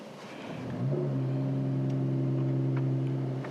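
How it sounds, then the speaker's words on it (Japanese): A Mercedes-AMG GT 53 4MATIC+ Final Edition engine cranks and fires up about a second in, then settles into a loud, steady idle with a smooth, rich hum that holds to the end. "ちょっとスターターを押していきましょうか。 スターターここです。"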